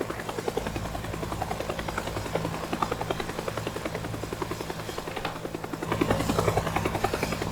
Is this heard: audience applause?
no